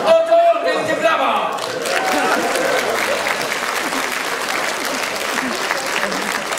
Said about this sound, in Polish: Oto, wielkie brawa!